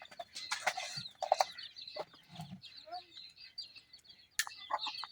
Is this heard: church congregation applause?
no